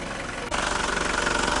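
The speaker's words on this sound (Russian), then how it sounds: "Ну все, завелись, работаем." A 1996 Mazda MPV engine catches after a brief crank and settles into a steady, close idle with an even rhythmic pulse, heard on its own.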